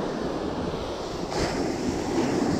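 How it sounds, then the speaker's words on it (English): Ocean waves break on Cocoa Beach, Florida, a steady broadband roar of surf mixed with wind buffeting the microphone, swelling slightly about halfway through, with no voices. "I keep seeing all these waves crashing."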